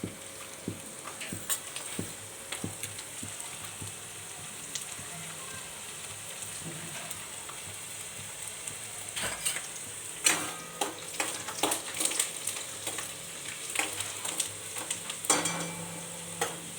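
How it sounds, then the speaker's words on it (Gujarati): Garlic cloves frying in a pan give a soft, steady sizzle with scattered sharp crackles and spits that grow busier toward the end, fairly quiet and close, with no one talking. "પછી હું આમાં લસણ નાખી દઈશ, થોડીક વાર કકડાવા દઈશ"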